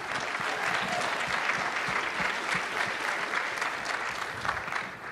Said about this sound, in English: one more round of applause for the beautiful couple